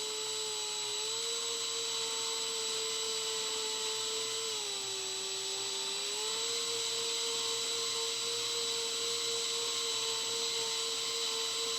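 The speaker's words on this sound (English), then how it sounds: "and drill my holes" A power drill bores vent holes in an xsTECH whiskey smoker, giving a continuous high motor whine that runs for about twelve seconds with a couple of brief dips in pitch as the bit bites.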